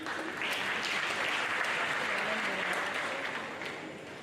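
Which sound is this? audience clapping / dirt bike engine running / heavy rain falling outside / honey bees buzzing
audience clapping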